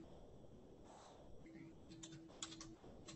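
Scattered keyboard keystrokes clicking in short irregular bursts at a computer while someone enters an integrand, faint, with a low steady hum underneath and no clear talk.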